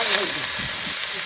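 Fish fries in oil in a kadai over a traditional wood-fired stove at a Santali family's outdoor cooking, making a steady, close, broadband hiss and sizzle throughout.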